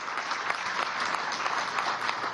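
A large crowd at a Venezuelan production expo event in Acarigua applauds steadily, a dense, continuous wash of many hands clapping at an even level throughout, without talk over it.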